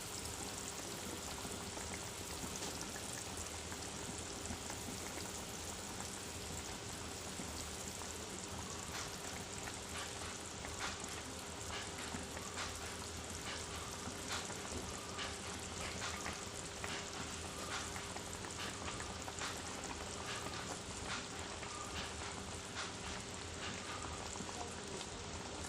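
Small chana dal fritters frying in hot oil, a steady, soft crackling sizzle with dense fine pops that carries on evenly throughout, close by and with no talk.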